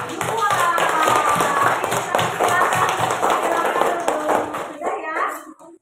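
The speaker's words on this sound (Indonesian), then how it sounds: "Tepuk tangan kembali untuk kelompok 2" A classroom group of children claps for their classmates in a lesson, a brisk burst of hand clapping mixed with taps and chattering young voices, fading out near the end.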